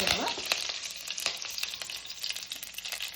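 Curry leaves hit hot oil already crackling with mustard seeds for okra huli, setting off a loud, dense sizzle and spitting that starts strong and eases slightly while continuing without pause.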